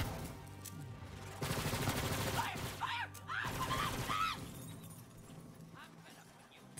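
Video game gunfire rattles in quick bursts and single shots amid battle noise, while a player talks excitedly over it.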